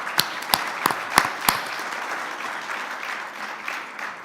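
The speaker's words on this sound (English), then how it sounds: "So let's give also applause for the wonderful panel that we had and all the speakers." Conference audience at ECCA 2023 applauding a climate resilience panel and its speakers: a few sharp, distinct claps near the start, then a softer, sustained patter of clapping from the room that slowly thins out.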